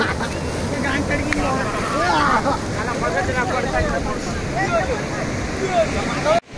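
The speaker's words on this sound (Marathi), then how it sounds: "मोठी लाटा" Big ocean waves at Baga beach in Goa make a steady, rushing wash of surf and wind. People talk throughout, and the sound cuts off abruptly at the end.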